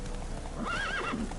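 A horse in The Witcher 3 gives a loud, close whinny with a rising and falling pitch, over steady background hoofbeats, with no speech.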